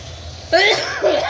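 Two quick, sharp coughs, one after another, close to the listener, with no talking.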